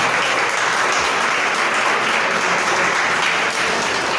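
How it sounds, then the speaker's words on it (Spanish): A church congregation applauds steadily and evenly, a dense, continuous wall of clapping with no talk audible over it. "Dele aplauso al Rey."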